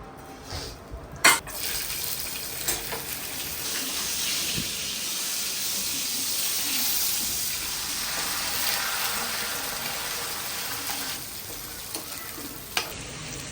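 Cumin and spices crackle and sizzle in hot oil with a steady hiss, punctuated by a few sharp clinks of a utensil against the pan.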